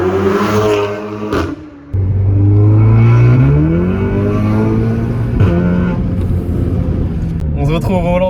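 An Audi S3 Stage 2 fitted with a Milltek exhaust revs and accelerates hard, a loud rising engine note climbing through gears with a short lift and crackle between pulls, close to the car.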